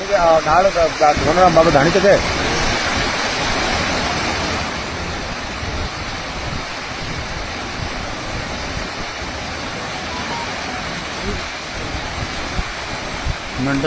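Floodwater from the breached Ghaggar river embankment at Panihari in Sirsa district rushes past in a steady, heavy roar with gusts of wind on the microphone, while people talk over it.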